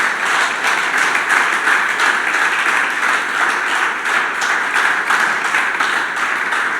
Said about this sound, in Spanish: ¿Por qué no le das tu mejor aplauso al Señor?